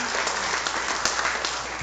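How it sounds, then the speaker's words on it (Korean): Church congregation at an afternoon service claps in steady, dense applause, a continuous wash of many hands heard from within the hall at moderate level. "주님께 감사의 박수 올려드리겠습니다."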